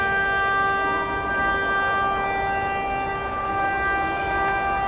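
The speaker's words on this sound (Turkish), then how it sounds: "Genelde tekne satıldığında böyle korna çalıyorlar." A single long, loud boat horn blares continuously with a rich, steady tone, holding for the whole stretch without pause or talking.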